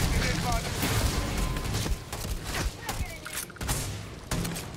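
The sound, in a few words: gunfire in combat, from video game Starfield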